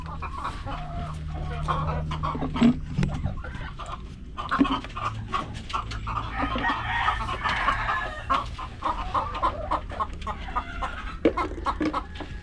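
Chickens clucking on a farm where eggs are being gathered, several birds close by making repeated clucks and short calls over a low background hum, with occasional rustling.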